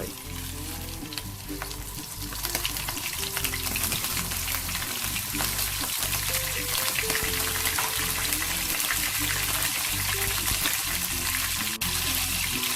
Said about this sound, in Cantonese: 用大火將我哋蝦擺落去